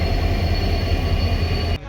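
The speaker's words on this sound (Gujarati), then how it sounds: "હમણાં ટ્રેન ઊભી રહે એટલે આપણે ડબ્બામાં બેસી જવાનું છે." A train pulling into a station in Ahmedabad, with a loud, steady rumble and rolling wheel noise that continues throughout, then drops off abruptly at the very end.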